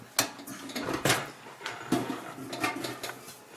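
The back doors of a vintage Buddy L toy vehicle are opened by hand, giving a few short metallic clicks and rattles with scraping handling noise, close and fairly loud.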